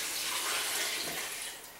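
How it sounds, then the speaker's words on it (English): Water pours steadily into a soup pot on the stove, a continuous bright splashing rush that tapers off toward the end, with no talking. "I'm going to add about 5 cups of water."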